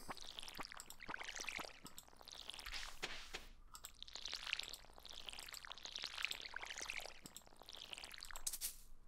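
A watering can pours over crops in Stardew Valley, with repeated splashing sweeps of water recurring in a steady rhythm, interspersed with small clicks.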